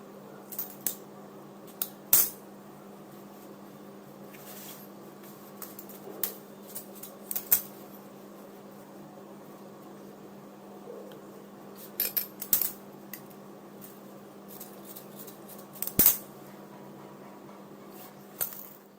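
Scissors snip through lehenga top fabric at the front neckline, giving sparse, sharp cutting clicks and crunches in bursts over a quiet, steady background hum.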